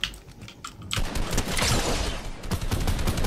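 Gunfire in the Fortnite video game, a dense crackling burst of rapid shots that opens sharply and keeps rattling steadily, fairly loud and close, with no talking over it.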